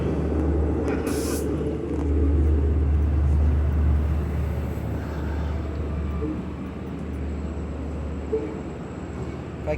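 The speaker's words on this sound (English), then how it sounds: "It's a pretty big train," A big push-pull commuter train at Kings Park railroad station rumbles steadily in the foreground, a deep continuous low drone with a brief hiss near the start that could be an air brake.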